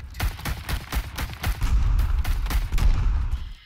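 Gunfire in Rising Storm 2: Vietnam, a string of rapid shots and thudding distant blasts in irregular bursts, punchy and fairly loud with a rumbling low end.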